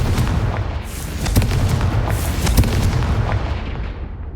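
Confringo explosive spell in the Hogwarts Legacy video game: loud, close blasts and booming bursts following in rapid succession, with a heavy rumbling low end and sharp cracks that fade out at the end.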